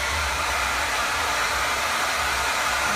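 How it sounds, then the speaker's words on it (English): A handheld blow dryer runs steadily at close range, a continuous loud airy whoosh with no break in its output, used for drying and curling hair. "we're going to take our blow dryer"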